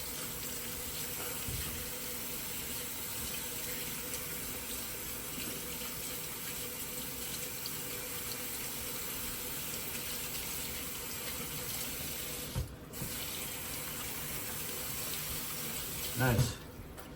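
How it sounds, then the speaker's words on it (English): Hot water running steadily from a kitchen tap for washing hands while cooking, a constant splashing rush into the sink that lasts throughout, with a brief bump and clatter near the end. "Then I gotta wash my hand off. I'm gonna need hot water."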